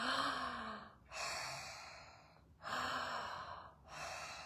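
A person imitates the slow breathing of someone asleep during a holotropic breathwork session: three close, deep breath cycles with audible airy exhales separated by short quiet pauses.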